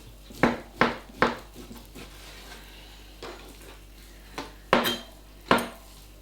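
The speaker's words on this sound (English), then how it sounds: "cut your pork into about 8 pieces, so sort of 8 chunks really" A knife chops pork into chunks on a board, giving a series of sharp thuds and knocks: three quick cuts, a pause, then several more, close and fairly loud.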